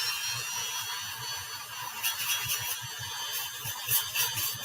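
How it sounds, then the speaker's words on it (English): A 3M polishing wheel on a rotary tool polishes a custom ring, giving a faint, continuous high whir. Soft scraping pulses come from the wheel's contact with the metal. "3M polishing wheel, I think is what they're called."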